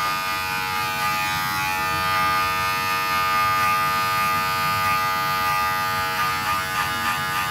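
Electric hair clippers run steadily while cutting a fade with a half guard on a small dog, a Yorkie, giving a close, constant buzzing hum throughout with no talk.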